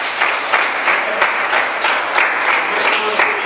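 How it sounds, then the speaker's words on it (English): A fitness workshop audience applauds at the close of the session, a dense, steady wash of clapping with small swelling bursts, sustained throughout. "So give yourself a big round of applause."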